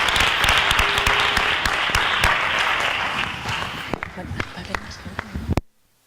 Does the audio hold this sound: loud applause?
yes